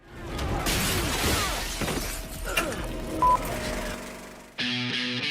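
Movie stunt glass rigged with four pressurized charges bursts apart in a loud, sudden shatter, with a crackling spray of fragments trailing off over several seconds before an abrupt change to a steady tonal sound at the end.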